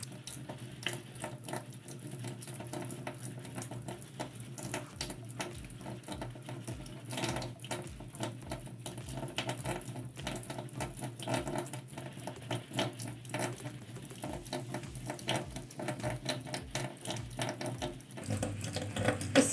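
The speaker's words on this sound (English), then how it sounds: "Scrub the hand using the 10 strokes each of the lower, middle, and upper areas of forearms." Steady running water from a faucet pours into a sink throughout while hands and forearms are scrubbed beneath it during a handwashing routine in a skills lab. There is a continuous patter with small splashing shifts and no talking.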